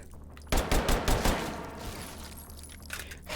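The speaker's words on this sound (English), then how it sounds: "This gun just isn't killing." A rapid automatic burst from a gun in a shooter game, five or six loud, punchy shots in quick succession, then a fading tail with faint scattered cracks behind it.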